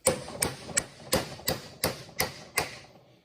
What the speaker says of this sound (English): tap this one in, keeping this nice in the center